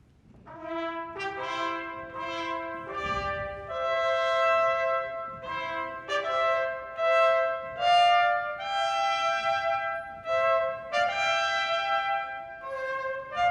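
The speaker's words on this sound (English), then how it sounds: "Let's hear how they sound." Trumpets play at a children's orchestra concert, sounding a melody of sustained bright notes and short phrases with brief gaps, clear and close, with no talking.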